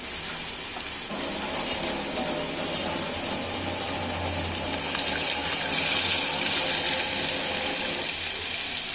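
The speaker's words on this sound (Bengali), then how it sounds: "এই পর্যায়ে আমি এতে পানি দিয়ে দিব।" Water pours into a hot pan of carrots for noodles as a steady, rushing hiss and splash that runs close and unbroken, swelling slightly louder near the end, with no voices.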